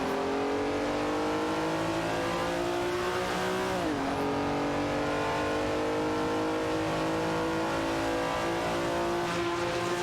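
Engines of a Chevrolet Camaro Z28 and a Plymouth Superbird roar steadily in a racing video game, with layered harmonic tones and a brief pitch dip and shift midway as a car changes gear, continuous and loud throughout.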